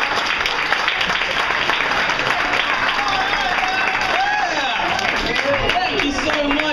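Comedy club crowd at Chilkoot Charlie's clapping and cheering loudly, a dense continuous roar of applause with shouts and whoops throughout.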